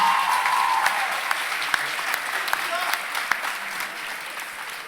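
Guests at a business school graduation ceremony clap for a newly introduced student committee secretary, brisk steady applause over a few seconds with a voice speaking through it.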